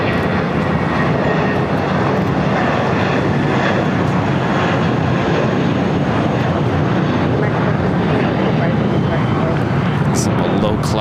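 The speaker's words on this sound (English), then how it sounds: "Next takeoff is Viva Airbus in the Raiders livery." Viva Aerobus Airbus jet in Raiders livery taking off at LAX, a steady loud broadband engine roar holding throughout with no letup, heard up close.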